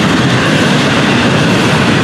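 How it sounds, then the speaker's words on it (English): An intermodal freight train of double-stacked containers rumbles past steadily and loudly, its wheels and cars producing a dense continuous roar with faint rhythmic clatter. "All intermodal on this train."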